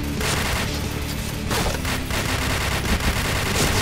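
Dense rapid gunfire in the online shooter Point Blank, loud continuous bursts of automatic weapons overlapping with sharp individual shots throughout.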